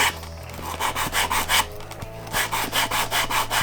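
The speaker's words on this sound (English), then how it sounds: "First step is to take a look at all of these edges and see if they need sanding flush." A sanding stick rubbed back and forth along the leather edges of a holster rig, a close, steady series of raspy scraping strokes with no talking.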